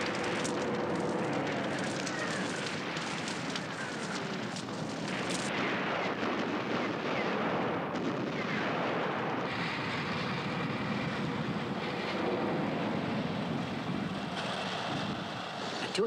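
World War II artillery strike on troop concentration areas before a tank battle, a dense continuous rumble of heavy firing and explosions, loud and unbroken throughout with no speech over it.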